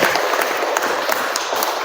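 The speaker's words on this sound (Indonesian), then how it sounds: "tepuk tangan untuk Bapak Tosin ya." An audience gives brief, steady applause for a speaker at a relic-placing ceremony in a Chinese temple in Jombang. The clapping is close and moderately loud.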